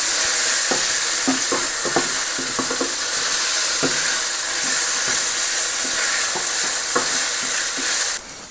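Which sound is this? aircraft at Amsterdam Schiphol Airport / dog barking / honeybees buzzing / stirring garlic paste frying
stirring garlic paste frying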